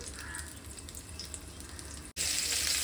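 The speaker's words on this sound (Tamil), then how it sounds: "எடுத்து வெங்காயம் போட்டுக்கலாம்" Onions drop into hot oil, the steady low frying hiss giving way after a brief gap to a much louder, bright sizzle that continues close and strong.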